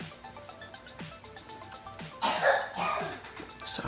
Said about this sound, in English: my daughter's got a little cough